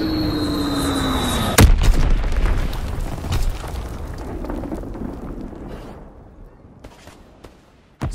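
Mortar rounds blasting in a WWII shooter game: a heavy boom lands near the start, then a long rumbling, crackling barrage of distant explosions that slowly fades, with another thump at the very end.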